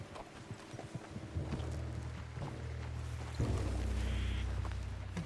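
Horse hooves clip-clopping in Red Dead Redemption 2, steady rhythmic footfalls at close range over a low rumbling backdrop, with no talk.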